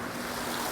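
Water in a hot tub bubbles and churns as a dense, continuous roar of jets and rushing water, loud and close with no talking.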